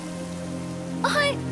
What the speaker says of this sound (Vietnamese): Ôi, trời đang mưa mà,